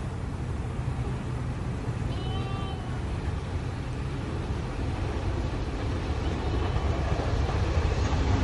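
An LMS Duchess steam locomotive running on the line near Hellifield Junction, a steady loud rumble of the train rolling past continuously.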